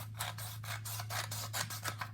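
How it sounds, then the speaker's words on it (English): Scissors from a stationery set slicing through paper, a series of about nine short crisp snips in steady rhythm, close and fairly quiet over a constant low hum. "These are the scissors. Let's cut so you guys can see how well these cut."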